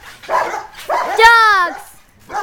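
Dogs bark in a backyard with a few short, loud yips and one longer drawn-out howling bark, close to the microphone.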